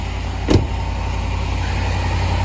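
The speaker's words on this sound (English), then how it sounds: "just start the car to make sure the compressor is running smoothly" A Range Rover Sport L320 idles with its Dunlop air suspension compressor running, a steady low engine hum heard up close with one brief knock near the start.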